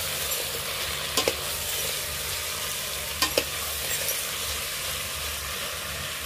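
Onions fry in a pan with a constant crackling sizzle, and a spoon scrapes through them in two short clusters of stirring, close up with no talk.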